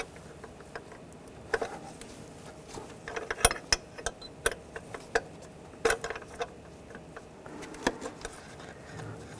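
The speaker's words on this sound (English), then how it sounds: "I'm just using a 13mm wrench" A 13mm wrench loosens a bracket nut on a 2009–2017 Volkswagen Tiguan 2.0L, giving faint, irregular metallic ticks and clicks scattered over quiet background with no talk.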